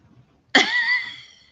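A single sharp cough muffled into an elbow bursts out suddenly after near silence, then trails off with a brief rasp.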